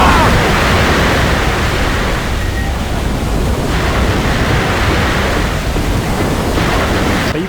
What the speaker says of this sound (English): We gotta watch out for the waves here because we are actually low enough to get hit by them.